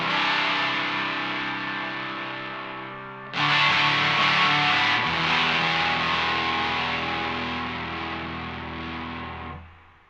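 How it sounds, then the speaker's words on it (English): Sustained electric guitar chords through a reverb pedal placed after a fuzz pedal, a distorted chord ringing and decaying, then a second struck chord swelling with a lingering reverb tail, alone without talk. "by having the reverb after the pedal, you're going to make it sound most like a traditional amplifier"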